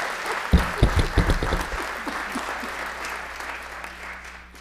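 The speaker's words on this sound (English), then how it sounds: "Let's give her a round of applause for having us" An audience at a Durham City Council meeting applauds a young honoree, a burst of loud clapping that quickly thins into scattered claps and fades to quiet room tone.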